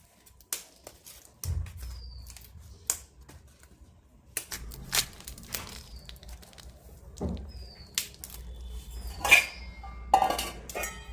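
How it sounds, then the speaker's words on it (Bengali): Cauliflower being cut with a knife on a board in a home kitchen, making sparse, irregular sharp taps and crunchy cuts close by, with quiet pauses between them. "ফুলকপিটা আমি কেটে নিচ্ছি।"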